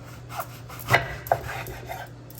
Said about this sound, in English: So we're just gonna cut it like this.